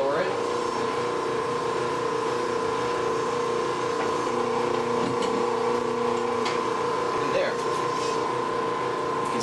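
A BWS-60 electric copper wire stripping machine runs with a steady mechanical whir and a constant tonal hum as insulated wire feeds through its blade, with faint ticks and someone talking over it.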